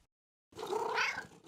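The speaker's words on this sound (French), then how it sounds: "Maman et Caillou entendirent un miaulement discret" A cat gives one soft, drawn-out meow after a moment of silence, faint and alone.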